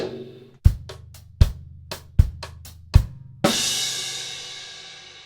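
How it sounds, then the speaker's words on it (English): A drum kit plays a short swung groove of kick, hi-hats and cross-stick clicks, then ends on a loud crash cymbal and snare accent whose wash rings out and slowly decays, close and solo. "and then you finish with crash and snare"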